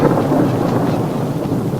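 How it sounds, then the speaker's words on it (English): A thunderstorm sound effect in a radio drama delivers a continuous heavy rumble of thunder mixed with rain-like hiss, loud and steady throughout with no voices. "Big storm him come from north."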